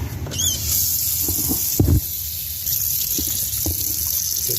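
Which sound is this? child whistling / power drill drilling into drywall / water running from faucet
water running from faucet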